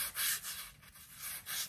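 A sanding pad rubs back and forth over chalk-painted furniture in a few steady strokes, close and fairly soft, with no voices.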